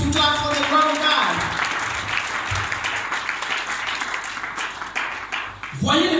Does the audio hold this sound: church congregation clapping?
yes